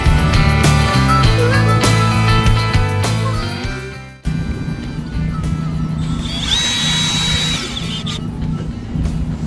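A power drill whines in short revving bursts while driving screws into roof lead flashing on a chimney, loud and close, then gives way to a rougher, steady mechanical roar with a thin high whistle.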